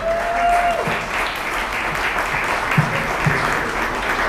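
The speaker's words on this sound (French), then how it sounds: "Sous vos applaudissements." An awards ceremony audience at a hotel in Kinshasa breaks into sustained applause, dense and even clapping at full volume, with a faint tone and a few thumps underneath.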